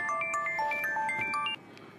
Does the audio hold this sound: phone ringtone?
yes